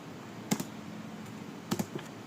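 A few separate keystrokes come in two small bursts on a computer keyboard while a router is configured in Cisco Packet Tracer, crisp and close against a quiet background hum.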